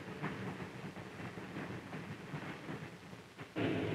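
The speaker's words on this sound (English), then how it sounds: "The huge locomotive sets the train in motion," A huge steam-era locomotive sets a 1950s passenger train in motion, giving a steady rumbling, clattering roar with faint rhythmic clanks, growing louder near the end.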